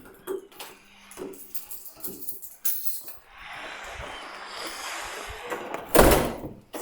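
A building door is opened and shut on the way into a dark hallway: scattered clicks and thunks of handle and hinge, a stretch of hissing air, then a loud thud as it closes.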